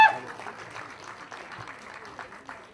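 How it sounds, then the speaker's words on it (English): An audience at a movie first-look promo event applauds the film's heroine, brief clapping that sounds under a talking voice. "Big round of applause for her."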